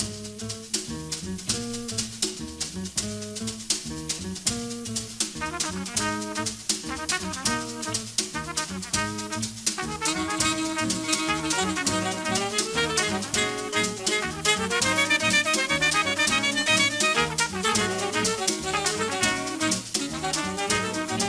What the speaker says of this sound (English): you've got the trumpet player playing a riff and then saxophones playing out top.